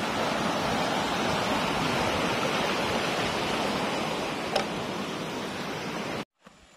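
A clear stream flowing past a spillway on an off-grid farm, a dense, steady rush of water heard close and alone, cut off abruptly near the end.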